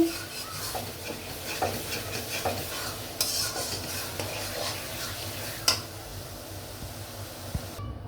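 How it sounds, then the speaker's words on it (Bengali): Masala being stir-fried in a pan for a wedding-style chicken roast made without packet spices: steady close scraping and stirring over a soft sizzle, with a few sharper clinks of the utensil against the pan. "আমি মশলাটা ভালো করে কষিয়ে নেব।"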